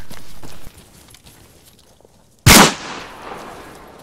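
A single loud, sharp gunshot from a weapon in the video game Arma 3 cracks out after quiet footstep-like shuffling, followed by a short decaying echo.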